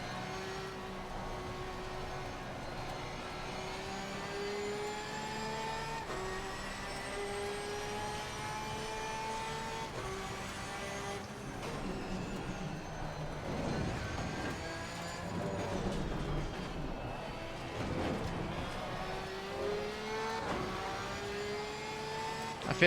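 Race car engines drone continuously in the video game Assetto Corsa Competizione at Suzuka, with several overlapping engine tones rising and falling through gear changes at a moderate, steady level.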